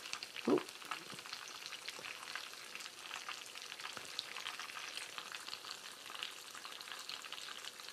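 Chicken pieces fry in boiling oil with a dense, steady sizzle and crackle, plus one brief louder clunk near the start and no talking over it.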